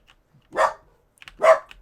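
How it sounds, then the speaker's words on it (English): A dog barks twice in Fallout 4, two short, sharp barks about a second apart, fairly close and alone with no talk over them. "Oh, the legendary Sparkle Dog. Barking away."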